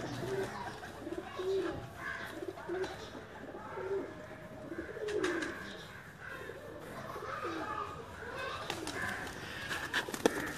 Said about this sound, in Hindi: ये नर कबूतर है जी।